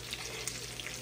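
Galunggong fish fry in hot oil in a large pan, giving a steady, close crackling sizzle with no voices.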